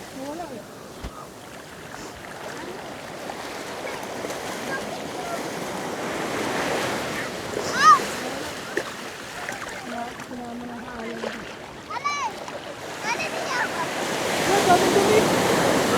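Ocean waves wash onto a beach in Samar as the tide rises, with a steady broad surf roar that swells louder toward the end, along with wind buffeting and people talking and laughing nearby.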